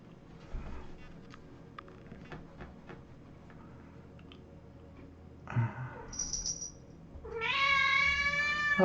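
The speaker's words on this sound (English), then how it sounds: "Oh, here's the cat." A domestic cat meows near the end, a couple of clear rising calls after quieter indoor rustling and clicks, close and fairly loud.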